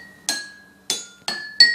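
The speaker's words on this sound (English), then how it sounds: "has a different pitch because the frequencies made by the glasses are interrupted by how much water is in it" A pencil taps drinking glasses filled with different amounts of water: four crisp clinks at uneven intervals, each ringing on with a clear sustained tone at a slightly different pitch, close and alone.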